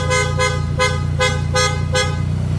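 A newly fitted auxiliary horn on a BMW GS1300 motorcycle blasts six short, evenly spaced toots in quick succession, loud and close, over a low steady engine hum.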